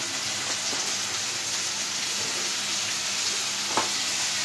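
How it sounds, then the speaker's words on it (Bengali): Ground spices such as turmeric, coriander, cumin and salt fry in a pan with a steady, close sizzle that holds evenly throughout, with one brief sharp clink near the end. "মশলাটা ভালোভাবে কষাই নেব।"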